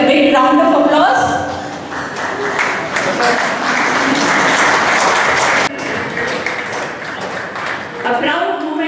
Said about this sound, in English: I request all of you to please stand and welcome them with a big round of applause.